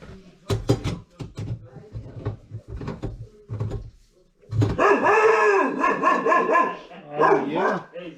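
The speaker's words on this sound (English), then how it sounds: "He's barking first and then licking" A small dog barks in a rapid burst of sharp yips, close by, after some brief clattering and voices nearby.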